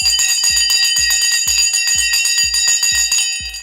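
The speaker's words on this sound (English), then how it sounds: "We're going to ring the bell in 4, 3." A stock market opening bell rings in a fast, steady, loud metallic clatter of repeated strikes for several seconds, alone, tapering slightly at the end.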